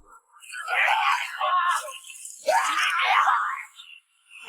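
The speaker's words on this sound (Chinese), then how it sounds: "凄厉的惨叫声响彻整个广场" A man screams in agony as a zombie bites his neck in a public square: two long, strained, anguished cries with a brief gap between them.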